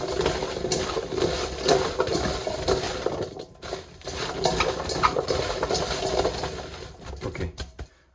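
Salted radish pieces being tossed and mixed by hand for Korean radish kimchi, with close, irregular wet clattering and rustling in uneven bursts and a brief lull midway.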